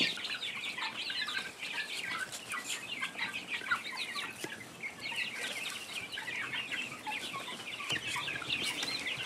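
A flock of chickens clucks continuously, with soft overlapping calls forming a steady background chatter and no speech.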